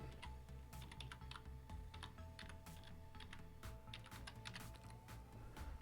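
Rapid, close key clicks on a computer keyboard as a website address is typed, a steady run of light taps at a quiet level.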